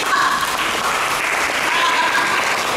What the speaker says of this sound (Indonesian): Tepuk tangan buat kalian sendiri